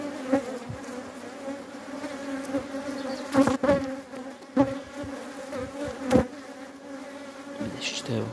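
Honey bees buzz steadily in an open beehive during a hive inspection, a close, dense drone with a few brief louder swells of bees flying near.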